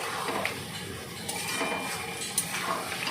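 Potatoes are stirred with spices in a pot on the stove, a spoon scraping and clinking against the metal with irregular soft knocks over a gentle sizzling background, close and modest in level.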